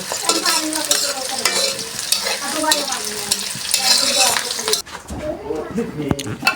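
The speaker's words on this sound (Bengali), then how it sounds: "এখন আমি চাল ভেজে নিচ্ছি" Rice being dry-fried in a pan, a loud continuous scraping and rustling of grains under a stirring spoon with a faint sizzle, while people talk over it.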